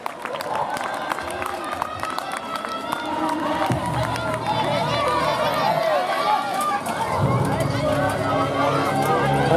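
Spectators at the finish area of a French Cup cross-country mountain bike race for elite women in Marseille, applauding and cheering in a steady, swelling wash of claps and crowd noise, with an announcer talking over the PA throughout.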